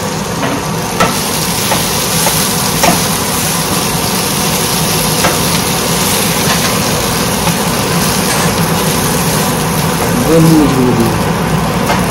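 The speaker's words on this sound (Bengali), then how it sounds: "দেন সবজিগুলোকে এর মধ্যে দিয়ে ভালো করে নাড়বো।" Vegetables get stirred in a hot pan with oregano and garlic powder, giving a steady loud sizzle with occasional scraping, and a faint voice comes in near the end.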